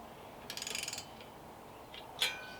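Ratchet tightening bolts on a racing seat being fitted in a Scion tC, a quick run of close, quiet clicks followed by a faint pause and a sharper single metallic click.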